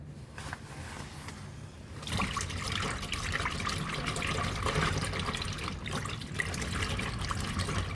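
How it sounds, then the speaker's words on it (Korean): Leather softening agent poured into wash water for cleaning a bag or jacket, a soft trickle that swells after two seconds into a steady close pouring and sloshing, with no speech. "유연 가죽을 부드럽게 해주는 약품을 어느 정도 첨가를 해줍니다."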